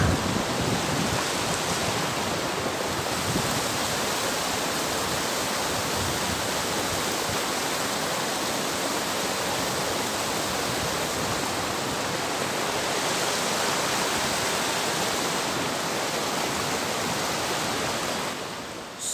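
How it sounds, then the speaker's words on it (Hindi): River water rushing steadily near a dam in Pakistan, a dense, continuous roar of flowing water that holds even and loud throughout with no pauses, and no talking over it. "चमकता होया पानी बह रहा है"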